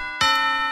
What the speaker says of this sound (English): I hear the school bells ringing.